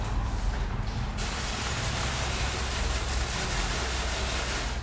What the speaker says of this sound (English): I'll spray that on and use the water to essentially spread that product out over the